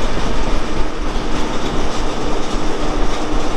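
The Rupasi Bangla Express rumbles loudly out of Kharagpur station in West Bengal, a continuous close roar of wheels and carriages with faint clickety-clack.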